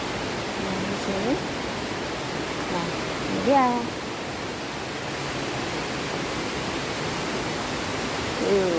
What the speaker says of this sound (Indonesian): Air gemericik membikinkan hati tenang, senang.